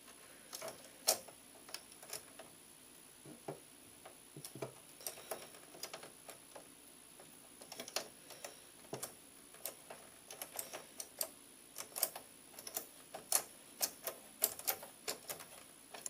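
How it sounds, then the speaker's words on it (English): Screw threads click as they reset while being turned during a computer build, a series of faint, sharp ticks at irregular intervals that grow more frequent toward the end, alone in a quiet room. "That click is the telltale sign that the threads have reset to the correct position."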